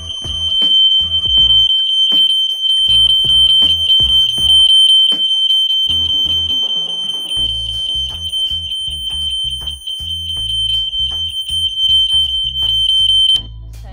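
A fire alarm triggered by a pulled BG12 pull station during a system test sounds as a loud, continuous high-pitched tone pulsing in rapid even beats, with deep horn-like blasts underneath that drop out briefly mid-way, then stop abruptly near the end.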